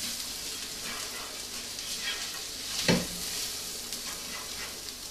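Steak pieces coated in flour sizzle steadily in a hot pan as they are stirred, with one louder scrape partway through, close and with no talk.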